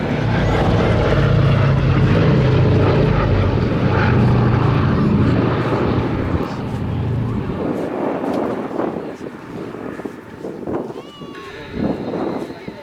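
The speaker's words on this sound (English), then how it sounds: "tribute is paid by the sole airworthy B17 flying fortress in Europe" A B-17 Flying Fortress bomber, the sole airworthy example in Europe, flies over an airshow at Duxford, its propeller engines a loud steady drone that fades away while a commentator talks over it.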